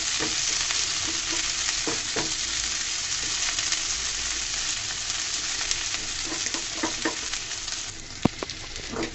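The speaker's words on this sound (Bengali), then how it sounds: "পেঁয়াজগুলোকে সুন্দর করে লাল লাল করে ভেজে নিব।" Sliced onions frying in oil in a pan while being stirred, a steady close sizzle with intermittent scraping clicks of the spatula against the pan, continuous throughout with no talking.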